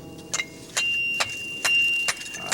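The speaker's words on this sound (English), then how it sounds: "That's the sound of a good piton there." A hammer striking a metal piton in rock, five or six sharp ringing metallic pings at a steady pace, fairly close, with a faint ambient hiss between.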